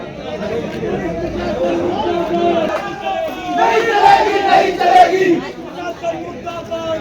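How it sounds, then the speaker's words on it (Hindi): Villagers protest at the Kotabagh police post, a dense crowd shouting and chanting together in loud, rhythmic surges with continuous chatter underneath. "तमाम ग्रामीण कोटाबाग पुलिस चौकी पहुँचे हैं और यहाँ की पूरी पुलिस चौकी को सस्पेंड करने की मांग कर रहे हैं ग्रामीण"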